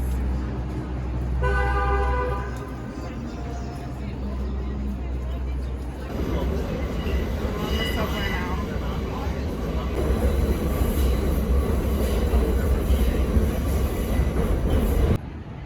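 A subway train rumbles loudly through a station, with a horn-like tone near the start and a steady roar that swells toward the end; brief voices underneath.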